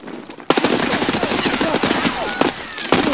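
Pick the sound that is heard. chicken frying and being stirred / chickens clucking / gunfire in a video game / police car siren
gunfire in a video game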